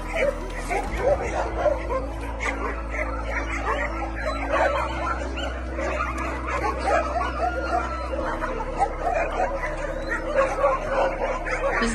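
Rescued dogs at a shelter housing many animals bark, yip and whimper in a busy, continuous chorus of overlapping calls, with people talking among them.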